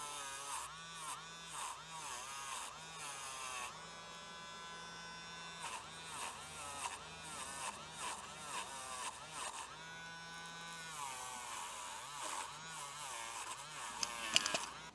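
A Dremel rotary tool polishes the contacts of a distributor cap from a 1973 Larson boat's Mercruiser 120hp engine, whining in short, repeated high-pitched bursts that rise and fall, close by, with one longer continuous run.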